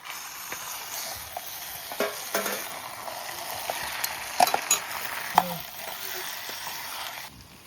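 Onions, tomatoes and spices frying in a pan at a riverside campsite, giving a steady soft sizzle with occasional stirring scrapes and clinks over several seconds, with no talking.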